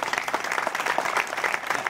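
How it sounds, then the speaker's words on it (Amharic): Church congregation applauding together, a dense, steady patter of many hands clapping at moderate distance, sustained without pause and with no talk over it. "ለራሳቸው አጨብጭቡላቸው"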